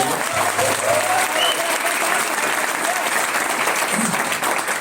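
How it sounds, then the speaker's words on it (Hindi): Steady applause from an audience at a celebration ceremony for Santosh's second luxury car, a BMW, sustained and fairly loud throughout, with faint voices and a brief whistle-like tone mixed in. "जोरदार तालियां संतोष की"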